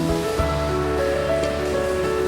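Water being poured into a pot holding broken wheat dalia and moong dal for khichdi: a steady, loud, continuous pouring rush fills the whole short moment, with no talk.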